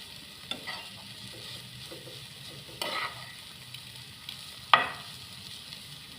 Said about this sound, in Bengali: একটু ভালো করে ঘি দিয়ে নেড়ে চেড়ে ভাজতে হবে, যাতে কাঁচা গন্ধটা চলে যায় গাজরের